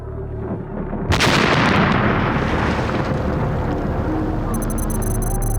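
A truck bomb blast at an American embassy, a sudden loud booming explosion that bursts in after a second and rolls on as a sustained roar and rumble.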